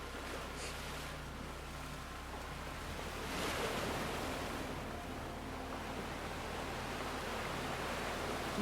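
Ocean waves wash in a soft, continuous roar of surf, faint and broad, with a gentle swell of breaking water partway through and no voices.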